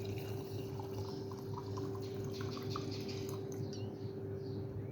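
Room-temperature water pours into a container while making a chia seed fat-cutter drink, a faint trickling and dripping over a steady low hum, with no talk.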